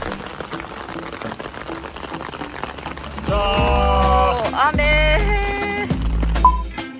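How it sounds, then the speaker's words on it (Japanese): Heavy rain of big, fat drops pours down in Matsumoto, Nagano, as a dense, steady hiss close by. Midway, loud tonal, music-like sounds swell over the downpour. "めちゃめちゃ大粒な雨がですね降ってきてしまいまして"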